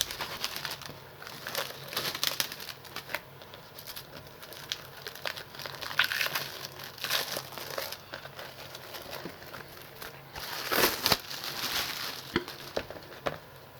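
Sealed plastic wrap is torn and crinkled off a 1989 Criterion Collection Wizard of Oz laserdisc, giving close, irregular crackling and tearing bursts that grow louder near the end.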